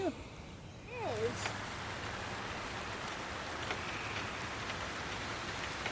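A torrential downpour begins suddenly after a brief whistle-like tone, then holds as a dense, steady hiss of rain pattering on surfaces, close and continuous.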